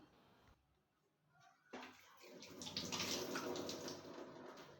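Water being sprinkled by hand onto a cloth-lined idli steaming plate in a home kitchen, a soft splashing patter that starts after a quiet pause and keeps up, close and fairly loud.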